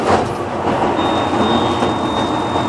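A Freightliner Century truck's diesel engine starts and rumbles steadily at close range, a low, rough drone with a faint high whine running through it.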